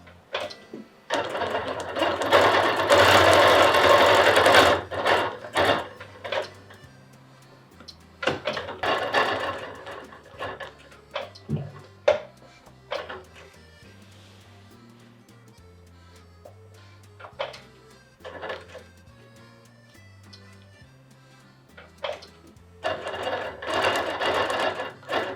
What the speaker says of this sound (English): you only need to use a ruler if you're quilting on a machine that's a free motion machine.